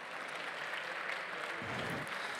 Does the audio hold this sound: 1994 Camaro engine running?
no